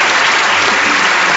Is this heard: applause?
yes